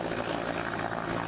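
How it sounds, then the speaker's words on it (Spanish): Peruvian Air Force firefighting helicopters fly over a fire in the Amazon, giving off a dense, continuous engine and rotor roar that stays loud and even throughout with no one speaking. "Estos helicópteros que intentan controlar los incendios en algún punto de nuestra Amazonía pertenecen a la Fuerza Aérea del Perú"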